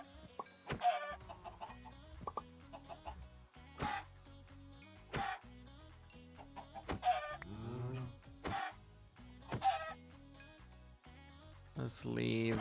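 Chickens in the Minecraft Sky Factory 3 video game give short, scattered clucks and squawks at irregular intervals, with quiet gaps between them and players talking faintly underneath.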